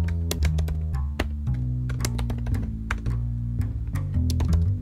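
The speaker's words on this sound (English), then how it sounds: "So now I can just type something that I want to find" Rapid computer keyboard typing of a search query, a dense run of sharp clicks and thunks at close range, steady throughout with no voices.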